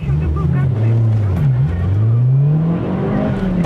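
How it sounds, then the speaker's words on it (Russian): A Mazda 6 MPS and an Audi R8 race side by side, a loud steady engine roar that rises and dips in pitch as they accelerate, close and continuous for the whole stretch. "35 МП-6 и Audi R8."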